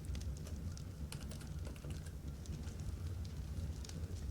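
Fast computer keyboard typing while playing ARK: Survival Evolved, with irregular clicks and clusters of keystrokes over a steady low hum and no talking.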